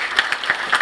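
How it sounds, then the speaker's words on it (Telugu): Audience applause at an award ceremony, a short burst of many hands clapping with uneven peaks, moderately loud and without speech. "Please give her a big clap."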